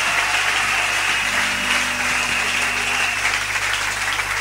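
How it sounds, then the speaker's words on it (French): A church congregation at a Pentecostal-style service applauds and cheers together, a dense continuous wash of clapping and voices held at steady loudness throughout, with a faint low musical tone underneath. "Acclamez très fort le Seigneur."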